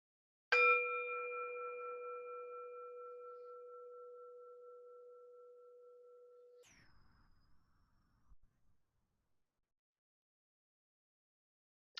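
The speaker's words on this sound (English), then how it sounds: "As we hear the bell" A single bell rung to open a mindful pause gives one clear, bright strike. Its pure ringing tone fades slowly over about six seconds, then a softer chime and a faint brush follow before the sound drops to near silence.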